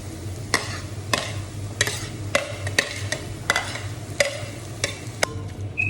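Crushed ginger, garlic and green chili go into a pan of softened tomatoes, with sharp scraping stirs striking about once a second over a steady, close sizzle.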